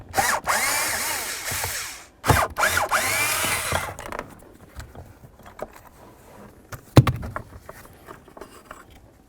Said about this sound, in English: continue on by removing the 2 mounting bolts using an 8mm